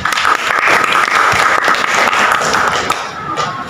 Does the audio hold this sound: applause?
yes